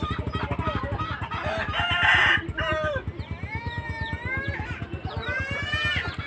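Rhode Island Red heritage rooster crowing in a backyard farm, a couple of clear crows over a steady pulsing mechanical background and other poultry noise, a voice speaking faintly.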